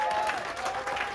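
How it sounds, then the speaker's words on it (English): Brief burst of audience applause at a community talk addressed to young men of the Virgin Islands, a steady wash of many hands clapping at moderate loudness with no speech over it. "Give him a round of applause."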